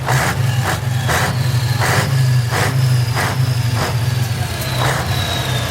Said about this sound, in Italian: Vai Mirko, ancora l'ultimo rombo, dai, vai